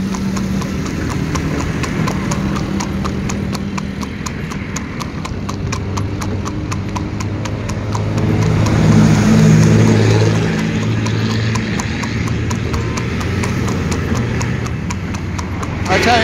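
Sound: horse hooves clip-clopping, mare pulling a horse cart

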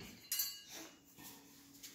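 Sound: grabbing a knife among cutlery

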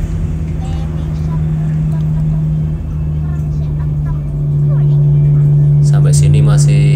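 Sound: many vehicles passing on a road at night

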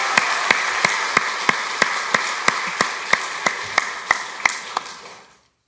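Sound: church congregation applauding teachers and children

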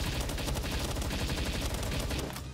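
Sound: gunfire in the video game Palworld

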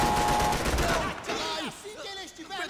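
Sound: gunshots from Max Payne 3 video game

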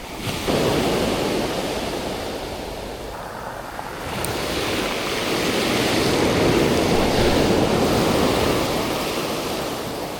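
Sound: ocean waves at the beach during surf fishing

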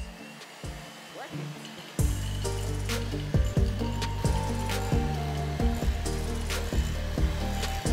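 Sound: electric hand mixer mashing potatoes

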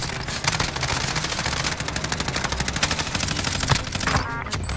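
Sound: gunfire in Call of Duty Modern Warfare video game

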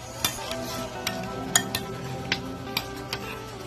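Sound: stirring crushed Oreos into homemade ice cream mixture

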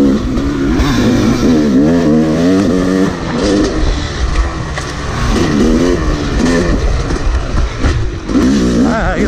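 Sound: dirt bike riding motocross laps

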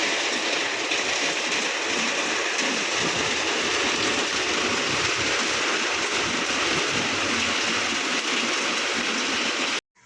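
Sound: heavy rain outside

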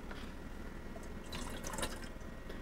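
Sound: pouring water from Glacier cup into Catalyst

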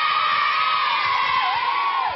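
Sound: studio audience cheering

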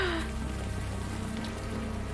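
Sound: rain falling, from the video game Unavowed

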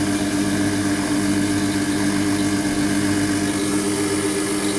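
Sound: compressor running

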